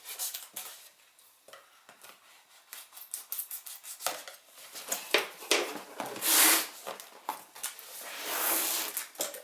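A blade slices through the cardboard and packaging of an Xbox One box, giving close, scratchy cuts and plastic rustling that grow in bursts, louder toward the end, with no talking.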